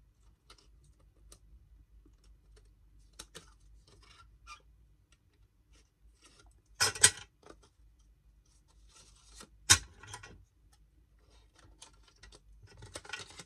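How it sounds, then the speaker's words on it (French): Scissors cut a window into a paper card for a winter-themed card, with faint scattered rasps and two sharper close snips amid long quiet stretches. "vous y allez avec vos ciseaux si vous n'avez pas été jusqu'au bout"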